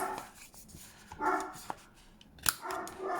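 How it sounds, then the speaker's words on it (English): A dog barks several times in the background during a paper-crafting session indoors, with sharp intermittent woofs spread across a few seconds, moderately near. "Let's just ignore the dog and pretend it's not barking."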